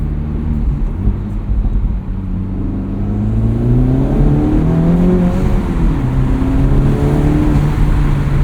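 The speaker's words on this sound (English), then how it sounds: "What does the exhaust sound like with the windows down?" A 2024 Acura Integra Type S exhaust, heard with windows down, rumbles loudly and steadily, rising and falling in pitch as the engine revs, heard up close with a deep, throaty drone.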